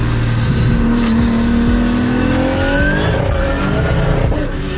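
A 2000 hp Nissan Patrol with a sequential gearbox revs hard and loud up close, the engine note climbing through quick gear shifts with a brief tire squeal amid the roar.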